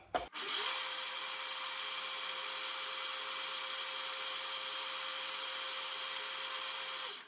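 Blender running steadily and loudly while mixing frozen fruit into juice, a continuous motor whir with a steady tone that starts abruptly after a brief thump and runs alone for about seven seconds.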